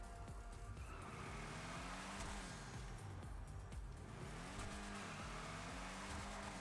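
The Tampa drift car in GTA Online revs hard in rising and falling engine sweeps with tire squeal woven through, steady throughout but faint and quiet overall.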